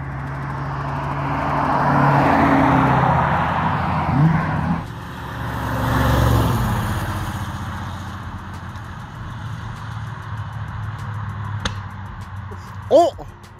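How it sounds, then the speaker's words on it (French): A Chevrolet Corvette C4 V8 rumbles on a wet road, its engine swelling loudly and fading in surges. A sharper burst comes near the end, with people talking over the engine noise. "ça pétarade"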